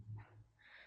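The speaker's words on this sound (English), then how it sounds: "Sorry for the barking." A dog barks indoors at home, a brief close yelp or two in a quiet room, heard alone with no talking.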